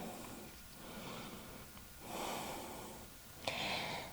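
Slow, audible breaths during a vinyasa yoga flow, soft inhales and exhales rising and falling close by, with one sharper snort-like exhale near the end and no talking.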